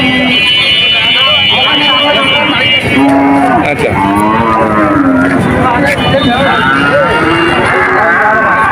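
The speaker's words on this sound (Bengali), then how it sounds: "খুবই সুন্দর একটা বকনা বকনা গরু" A heifer at a cattle market gives several drawn-out moos, close and loud, over constant crowd noise and people talking throughout.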